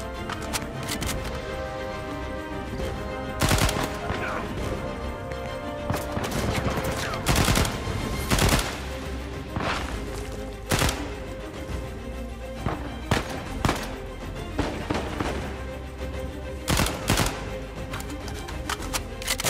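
Gunfire in the video game Uncharted 4, sharp shots and short bursts cracking out at irregular intervals over a steady background of game ambience, loud and close.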